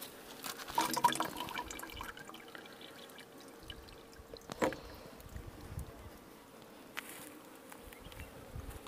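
Pure honey, taken from a hive inside split rock, poured into water, heard as a faint trickling pour with soft buzzing and rustling, brief louder splashes near the start and middle, and no talk.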